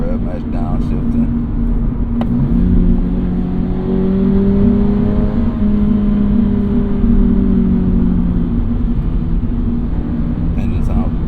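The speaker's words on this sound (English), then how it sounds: "Engine sounds a little bit buzzy up top." A Toyota GR86 engine blips and revs through a rev-matched downshift on a drive, a steady buzzy drone rising and falling in pitch over continuous cabin rumble, close and prominent throughout.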